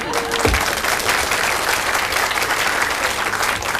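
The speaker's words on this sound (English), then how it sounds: "Just smile and they'll give you a round of applause." A television cooking-show studio audience breaks into applause, a dense, steady clatter of many hands clapping close by for several seconds.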